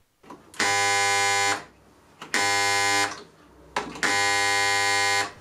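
Homemade portable spot welder transformer buzzing loudly in three bursts of about a second each, a harsh, rich mains hum with separate pauses and faint clicks between bursts, close and alone.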